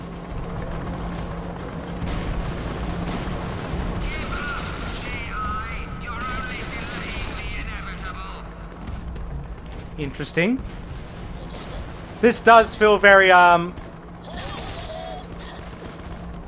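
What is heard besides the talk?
helicopter gunfire in a video game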